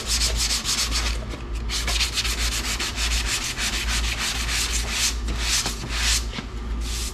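Sandpaper rubbing back and forth over a painted surface to feather the edge, a loud close rhythmic scratching with fast even strokes that continues without a break and with no talk.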